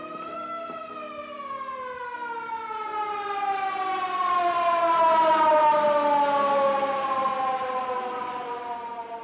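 Wailing ambulance siren from a 1946 film, a steady harmonic tone that climbs slowly in pitch and swells louder toward the middle before easing off, alone with no talk.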